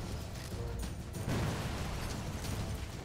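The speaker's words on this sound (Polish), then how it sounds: "Pięknie, pięknie to wybucha, to mi się podoba." A Sniper Elite 4 game explosion bursts out around the middle, a heavy rumbling blast with crackling debris, set against a steady bed of background noise.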